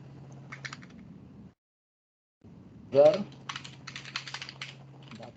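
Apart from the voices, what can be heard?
typing on a computer keyboard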